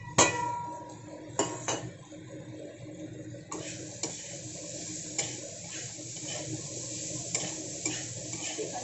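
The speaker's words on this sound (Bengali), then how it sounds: "এখন এখানে দিয়ে দেবো কাঁচা লঙ্কা, টমেটো আর পেঁয়াজ।" Green chilli, tomato and onion tipped into a pan with a little oil and stirred, giving a series of sharp metallic scrapes and knocks over a soft, steady sizzle, with no talking.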